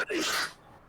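A single sharp sneeze bursts out briefly during a casual tabletop role-playing game session, close to the microphone, then fades into quiet room sound.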